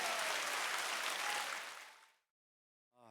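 A church congregation bursts into welcoming applause, a dense, loud wash of many hands clapping that fades out over about two seconds into silence, followed by the brief start of a voice.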